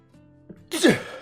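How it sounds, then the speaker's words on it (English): A single loud, sudden sneeze bursts out after a brief quiet stretch of faint murmuring, close to the microphone, with a sharp onset and a short trailing decay. "I'm gonna sneeze."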